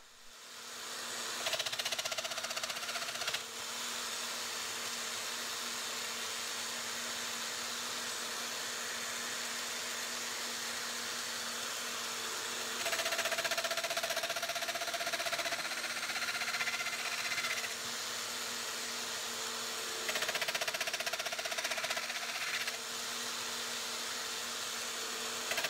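A Festool Domino joiner cuts mortises into a wooden breadboard end, a steady high motor whine with several louder bursts as the cutter plunges into the wood, with no talking.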